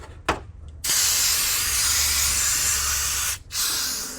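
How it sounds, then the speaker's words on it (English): Compressed air blasts out of a mountain bike fork base valve during a suspension service: a brief sharp puff, then a loud continuous hissing spray for almost three seconds, ending in a short tail of hiss. "We'll use some compressed air to blow this out."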